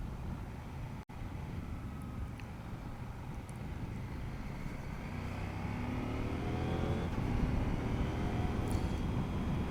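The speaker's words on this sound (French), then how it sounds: "on va sortir de la ville et on va pouvoir tester un peu le moteur," A CFMOTO 800 MT Touring motorcycle engine pulls steadily on an open road leaving town, its drone rising and thickening as it accelerates, with wind rush throughout and no talk.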